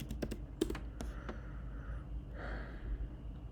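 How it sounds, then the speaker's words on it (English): A few quick keystrokes on a computer keyboard, typing a short greeting into a restaurant chatbot, clustered near the start and then fading into quiet room tone. "So if I type hello"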